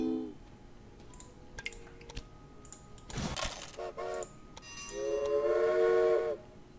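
Train whistle in Railway Empire's Japan setting, a loud sustained tonal blast near the end after brief chimes, clicks and a burst of noise from the game.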